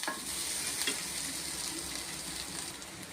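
Steady sizzling of tomato chutney sautéing in a hot pan, with occasional stirring scrapes, continuous and fairly close, no talking.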